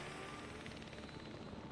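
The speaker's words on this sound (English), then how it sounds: "Oh, look, and there's just a helicopter tour." A helicopter on a sightseeing tour over a Las Vegas Strip park in the Jurassic World Evolution 3 video game gives a faint, steady rotor thrum with fluttering chop throughout.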